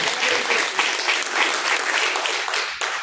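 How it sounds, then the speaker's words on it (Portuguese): A church congregation bursts into loud, dense clapping in praise during a live service, sustained for a few seconds before briefly thinning near the end. "Palmas que louvam e engrandecem o nome do Senhor"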